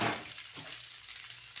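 Okra (bhindi) frying in a pan at home, a steady soft sizzle with a brief stir near the start, close and moderately quiet, no voices.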